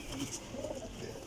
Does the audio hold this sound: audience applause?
no